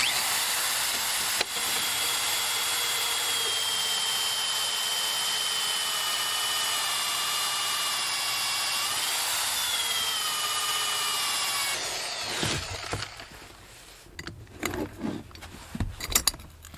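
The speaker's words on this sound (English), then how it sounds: "Don't try a 4-inch hole saw without one because it'll rip your arms off." A 4-inch hole saw on a drill with a side handle cuts through a wooden floor for a bathroom drain rough-in, giving a long, steady, loud grinding whine that ends abruptly, followed by scattered knocks and scraping.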